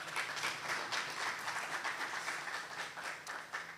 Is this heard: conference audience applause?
yes